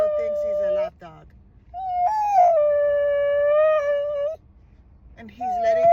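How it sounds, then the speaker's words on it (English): Inside a moving car, a dog howls in long rising and wavering cries, broken by short pauses and a whimper. The howls are close and fairly loud against low road rumble. "I'm driving and Shadow thinks he's a lap dog."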